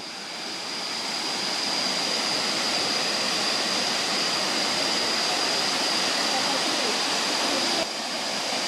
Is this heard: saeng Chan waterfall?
yes